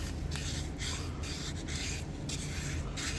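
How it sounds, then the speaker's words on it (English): Sandpaper scrubbing rust off the metal bail of a knife, a close, steady rasping rub in quick back-and-forth strokes with no pauses. "Try to get your sandpaper up in there."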